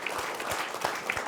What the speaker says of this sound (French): Pierre, on peut l'applaudir bien fort également